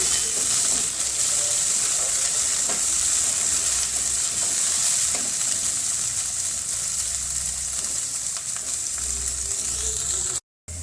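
Mungre, radish pods, frying in hot oil, a loud continuous close sizzle with light stirring scrapes, steady throughout and without speech until a brief cut near the end.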